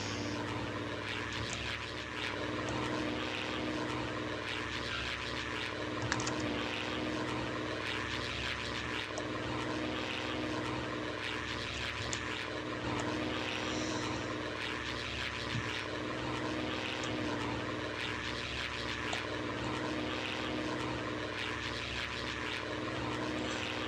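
A 1930s military propeller plane in the PTFS game drones with a continuous, steady engine roar that stays loud and even for the whole stretch, with no talking.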